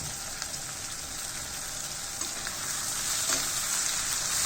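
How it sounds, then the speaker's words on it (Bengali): Shrimp fry with onion in a pan, producing a steady, even sizzle close by that swells slightly toward the end, with a few faint stirring ticks. "পেঁয়াজের সাথে সাথে চিংড়ি মাছও ভাজা হয়ে যাবে"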